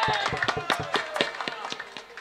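Scattered hand clapping from an audience at a Bengali alkap comedy stage show, a quick irregular patter of claps with a voice speaking over it.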